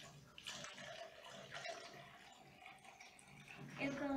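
Water is poured into a measuring container, up to 250 ml, for making gelatin, giving a soft splashing trickle while someone talks over it.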